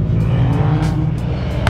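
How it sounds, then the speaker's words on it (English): Cars rolling into a car meet, a steady low engine rumble close by with brief hisses and tire noise on top, continuous and fairly loud. "There are cars pulling in"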